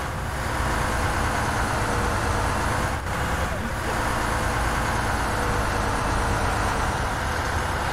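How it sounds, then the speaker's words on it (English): A loud bus running without a muffler in a military simulation game, heard as a constant heavy engine roar and rumble filling the space from inside the vehicle, with a voice faintly buried under the noise. "Fucking bus is loud"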